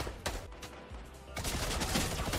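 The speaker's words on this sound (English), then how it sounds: "Whoa! Brutus's minigun!" Brutus's minigun in Fortnite fires in a few rough bursts, then settles into a denser, sustained stretch of gunfire at moderate volume.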